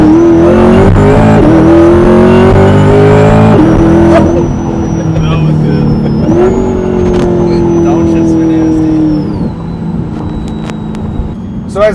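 Lingenfelter Magnuson TVS2650 supercharged Corvette C8 engine heard from inside during a ride, loud and steady, with the pitch climbing through the gears and breaking at several gear shifts.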